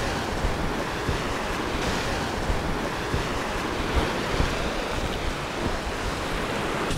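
Surf rolling onto Cola Beach in South Goa: a steady, loud wash of breaking waves mixed with strong wind buffeting the microphone, continuous throughout with no speech.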